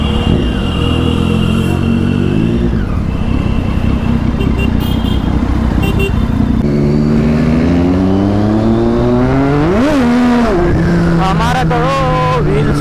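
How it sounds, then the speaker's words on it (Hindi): A superbike on a busy Mumbai street spins its rear wheel and revs hard, its loud engine rising and falling in sharp surges close to the listener, with traffic noise underneath. "हमारा तो व्हील स्पिन हुआ।"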